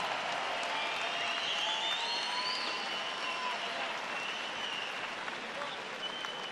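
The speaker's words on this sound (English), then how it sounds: "une bonne main d'applaudissement pour ces deux guerriers qui se sont livrés d'une incroyable guerre" Crowd applause after a six-round professional boxing bout between fighters from Canada and Mexico, a steady wash of clapping from the arena audience, moderately distant and continuous throughout.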